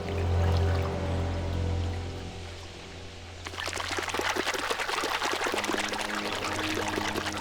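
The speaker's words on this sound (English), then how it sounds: "Dung spraying is the boss's way of saying he's in charge." A dominant male, likely a hippo, sprays dung around a shrinking waterhole; after a low rumbling lead-in, a sudden loud spattering, pouring splash takes over and continues steadily to the end.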